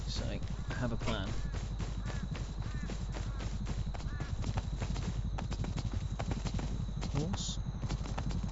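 Horse hooves clip-clop in a steady trot throughout in the video game Rust, close and constant, with a few faint voice-like sounds mixed in.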